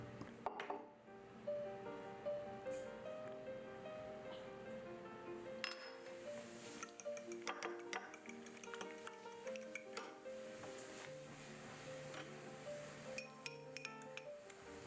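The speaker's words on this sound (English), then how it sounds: "next I'll mix all the wet ingredients, and I suggest you use a larger bowl" Wet ingredients being mixed in a large bowl with a utensil: a quiet, steady run of light clinks and taps against the bowl, with soft sloshing in between and no talking.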